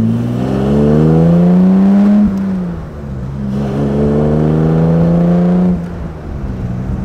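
A 1959 Jaguar SS 100 recreation with its top closed accelerates hard, its loud engine note climbing steadily in pitch, dropping at a gear change near the middle and climbing again before easing off.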